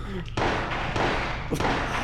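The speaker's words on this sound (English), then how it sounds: "The gunshots are really funny." Gunfire in the Silent Hill video game: sharp, loud thuds ring out close by, one near the start and another about a second later, under a steady bed of game noise.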